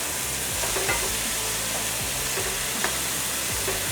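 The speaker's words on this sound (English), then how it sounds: "We're gonna cook the veg down until it's soft or sweat it out a little bit." Mirepoix vegetables with herbs sweating in a pan of rendered bacon fat for a cassoulet, a loud, continuous close sizzle broken by a few stirring scrapes, with no voices.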